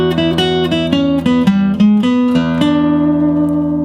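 A short guitar lick in the major blues scale position, a quick run of distinct plucked notes with slides that ends on a longer sustained note, played clean and close with no talking.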